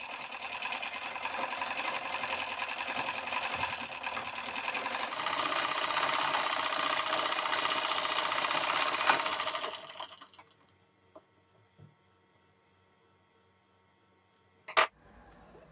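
A sewing machine stitching a blouse runs in a fast, steady whir for about ten seconds, then stops abruptly, leaving near silence broken by a few small handling clicks and one sharp knock.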